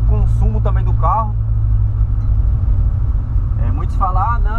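VW Polo with a sport exhaust running only a mid muffler and otherwise straight pipes, giving a steady loud low drone; someone talks over it.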